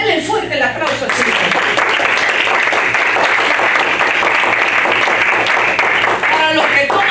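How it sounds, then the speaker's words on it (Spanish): A church congregation applauds loudly and steadily for the children of the King, a dense wash of clapping with cheering voices rising through it, kept up without a break. "A los hijos del Rey, denle fuerte el aplauso"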